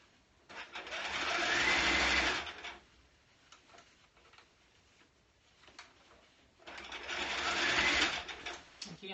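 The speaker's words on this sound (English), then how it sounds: "I'm sewing this right sides together, the lining to the coat" A sewing machine stitches a coat lining to the coat, right sides together, in two steady bursts of close, rapid mechanical whirring with a quiet pause between them.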